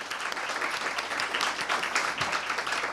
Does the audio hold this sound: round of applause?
yes